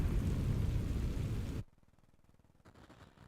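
Incendio spell setting dry vines alight in Hogwarts Legacy, a loud roaring whoosh of flame for about a second and a half that cuts off abruptly, leaving faint crackle.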